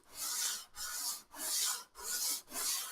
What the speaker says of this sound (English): we are doing a really tough grit of sandpaper here